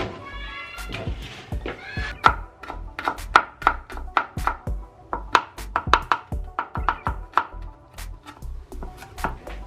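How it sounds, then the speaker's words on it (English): A knife chops garlic and ginger on a board in a kitchen, giving a steady run of sharp, close chopping taps with short irregular pauses between bursts. "okay, so we are done cutting our garlic and ginger"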